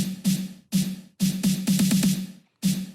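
Punchy drum pattern with kick and snare hits, broken by short gaps, then a quick run of rapid snare strikes forming a fill before the beat resumes.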